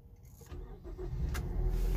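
A 2008 Mazda CX-7 Grand Touring with a 2.3-liter 16-valve turbo engine starting from inside the cabin, a short crank catching into a low rising idle rumble, fairly quiet.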